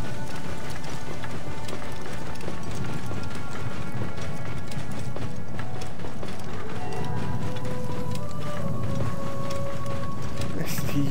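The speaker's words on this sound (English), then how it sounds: "I've got to call a horse to come and help me" Hooves pound steadily as a horse gallops across ground in Assassin's Creed Origins, a rapid, even clip-clop rhythm close up under a constant wash of ambient game sound.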